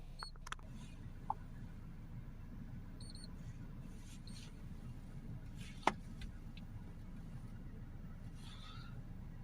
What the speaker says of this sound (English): So let's switch this vehicle on.